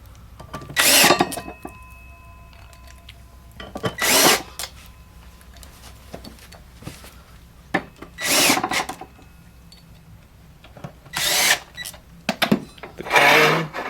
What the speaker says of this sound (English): So you just go ahead and put that base, line it up with the holes,